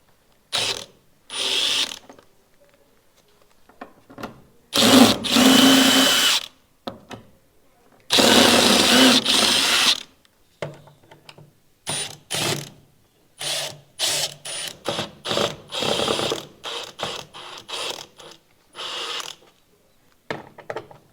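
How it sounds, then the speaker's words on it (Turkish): A ratchet wrench loosening the bolts of an office door, close and loud, in rapid clicking bursts separated by pauses, some bursts long and dense, with a few faint creaks. "son cıvatayı da söküyoruz"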